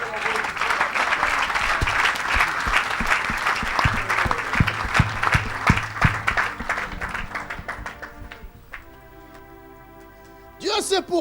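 Congregation at a Pentecostal church sermon breaks into sustained applause and clapping for about eight seconds, dense and steady, before fading into a quiet pause and a preacher's voice returning at the end.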